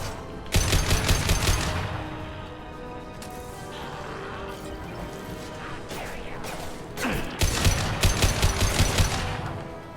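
Rapid automatic gunfire from a weapon in the video game Mass Effect 2, with two loud sustained bursts of fast shots separated by a stretch of quieter in-game rumble and clatter.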